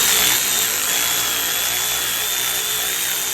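A power tool runs continuously and loudly, driving a long bolt into the rear shock absorber mount of a BMW GT F07, a steady whining drone with no talking.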